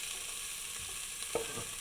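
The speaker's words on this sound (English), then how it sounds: "Hear it sizzle? Yes, it's sizzling." A quiet, steady sizzle of chicken frying in a hot pan, a constant hiss with a faint tap or scrape near the end.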